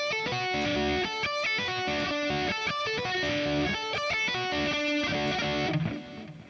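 Distorted electric guitar playing a sweep-picked arpeggio without palm muting, the notes ringing into each other in a dense, sustained, loud wash that continues steadily before cutting off near the end.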